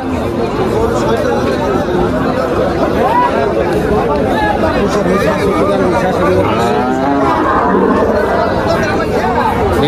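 Cattle lowing amid a busy crowd at the Tepakhola cow market, the moos rising over constant loud chatter and bargaining voices throughout.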